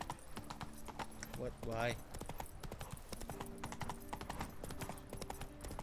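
Roach the horse's hooves clip-clop in a quick galloping rhythm in The Witcher 3: Blood and Wine, with a brief whinny partway through and a voice talking over the hoofbeats.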